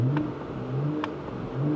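Porsche Panamera 4 Executive with its sport exhaust system switched on, giving a steady, close engine drone with a low burbling exhaust tone and no talking.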